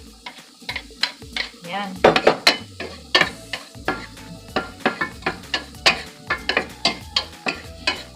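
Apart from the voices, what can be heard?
sautéing garlic and onion for fried rice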